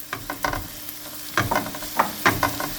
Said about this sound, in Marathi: मातशें चिली भाजो न्ही, मातसो फ्लेवर येवपाचो चिलीचो